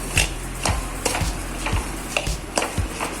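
Cashews and walnuts dry roasting in a pan, stirred with a utensil in quick rhythmic scrapes and taps, close and clear with no voices.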